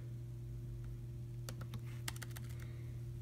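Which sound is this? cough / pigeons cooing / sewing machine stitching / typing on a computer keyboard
typing on a computer keyboard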